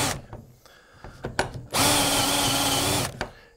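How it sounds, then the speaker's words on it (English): A power drill bores 8 millimeter hinge holes into cabinet wood, preceded by a few sharp clicks and taps, then one steady high whine lasting over a second before cutting off abruptly. "we're going to drill the holes, just like this. The two 8 millimeter holes first."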